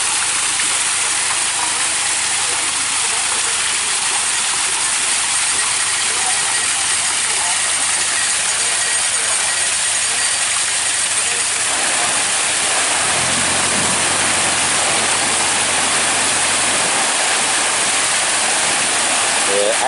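Loud, continuous rush of water roaring steadily and close by as it pours through a canal lock, a dense broadband wash that shifts slightly midway without pausing.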